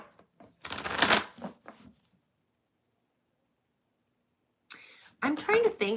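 A crisp burst of cards being shuffled, brief riffling and flicks close by, followed by silence and then a voice speaking.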